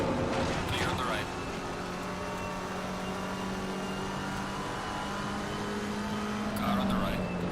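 Race cars in the video game Assetto Corsa Competizione, engines droning and shifting pitch as cars run side by side, with occasional revving swells under steady sim racing audio.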